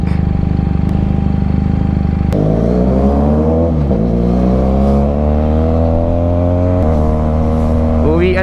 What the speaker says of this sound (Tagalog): Uwian na kasi kaya traffic.